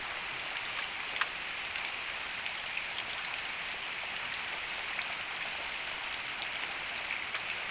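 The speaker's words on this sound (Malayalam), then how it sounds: "നല്ല മഴയാണ്, മഴ തുടങ്ങി" Steady heavy rain, a dense constant hiss with scattered sharper drop taps throughout, no voices.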